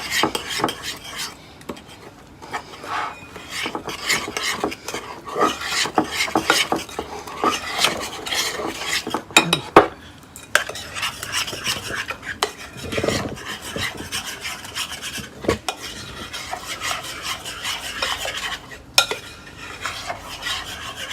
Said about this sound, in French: Et on remue le tout.